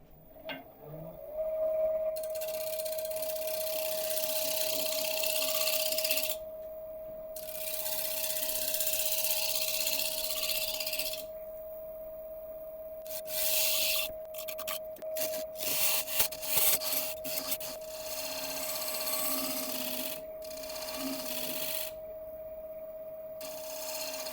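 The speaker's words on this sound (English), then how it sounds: "Probably just a couple of gentle pull cuts, I think, just to smooth that out." A lathe tool makes gentle pull cuts across a spinning false acacia burl bowl, a steady close scraping hiss in long passes with short gaps, over a constant motor whine.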